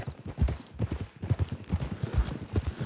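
Hooves clip-clop in a steady walking rhythm from a horse in the Western video game Red Dead Redemption 2, close and clear with almost no talk over them.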